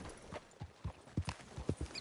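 Horse hooves clip-clop in the video game Red Dead Redemption 2, a quiet, close series of about ten uneven hoof strikes at a walking pace with no voices.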